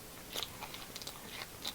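Someone bites into a freshly opened crisp Japanese snack, a few faint, close crunches and chews in a quiet room.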